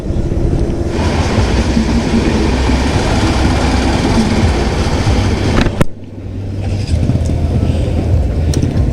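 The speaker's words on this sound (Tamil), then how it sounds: "மயிலாடுதுறை எக்ஸ்பிரஸ் போயின்னு இருக்குது" A loud, continuous roar of the Mayiladuthurai Express train rushing past close by, cutting off abruptly near the end before a quieter rumble continues.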